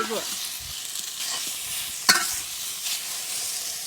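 Beef frying in a pan for a Kerala-style roast gives a moderate, steady sizzle with a few soft stirring scrapes and one sharp clatter partway through.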